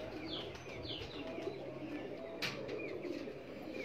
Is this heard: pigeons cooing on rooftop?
yes